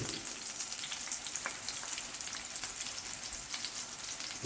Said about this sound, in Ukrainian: першим посмажимо цей великий шматочок. На рослинній олії.